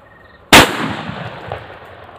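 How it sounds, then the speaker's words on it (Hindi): A single bullet bomb firecracker bursts outdoors with one sharp, loud bang, followed by a decaying echo and faint crackle. "बुलेट बॉम्ब की आवाज़ हमारे पास काफ़ी अच्छी थी"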